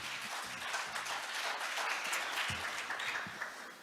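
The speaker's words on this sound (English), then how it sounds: "Please welcome him with a big round of applause." Audience applause at the opening ceremony of an international carbon neutrality conference, a sustained, moderately loud wash of clapping from a large seated crowd welcoming a speaker, with a few low bumps of handling noise.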